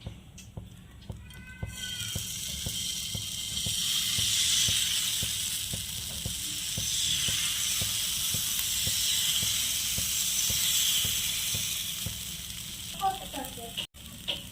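Palm fruit batter hisses and sizzles steadily in an oil-brushed frying pan, a loud continuous fry with faint regular ticking underneath and brief clatter near the end.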